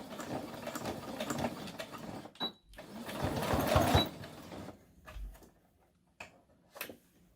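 A sewing machine stitches over elastic on a pleated fabric face mask in quick rattling bursts that start, stop and restart, with short pauses between runs of stitching.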